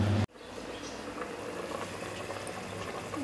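Mutton yakhni soup simmers in a pot with a steady, low bubbling and gentle liquid churn that continues throughout after a brief initial cut, with no talking.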